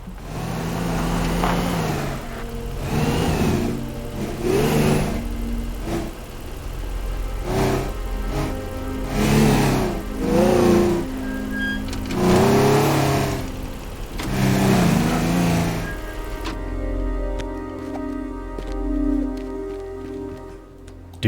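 A car engine in the video game Teardown revving repeatedly, loud surging pulses rising and falling at a medium pitch before settling into a lower idle-like hum near the end, with no talk.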